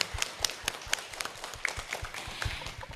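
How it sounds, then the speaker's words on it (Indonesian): An audience at an Indonesian elementary school event in Tolitoli claps in a quick, rhythmic unison beat, with sharp, distinct claps repeating close by and loose, scattered clapping mixed in. "Tepuk tangan lagi"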